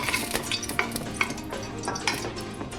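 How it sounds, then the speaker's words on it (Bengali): A bay leaf and two halved dried red chillies fry lightly in oil, giving a low sizzle under repeated metallic clinks and scrapes of a spoon against the pan, close and without voices. "দুভাগ করে দুটো শুকনো লঙ্কা দিয়ে দিলাম, দিয়ে হালকা ভেজে নিচ্ছি"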